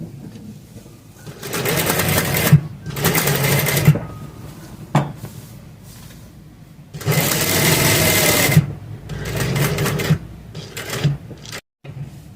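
A sewing machine stitches fabric for a patti neck design with lace, running in several loud bursts of rapid stitching separated by short pauses and clicks.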